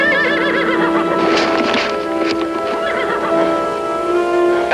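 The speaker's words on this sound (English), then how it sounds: "caballo's gonna make a fool out of Pablo" A horse whinnies loudly and close by in a long, wavering neigh, with fainter snorts and a possible hoof clop underneath.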